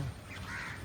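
A flock of mynas calls in faint, harsh, crow-like chatter that sounds distant and thin against background noise.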